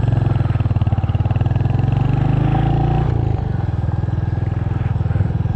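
A Royal Enfield Hunter 350 single-cylinder motorcycle thumps close by as it pulls away from a car park, a loud, rapid, even pulse that dips briefly mid-way with a gear change before resuming.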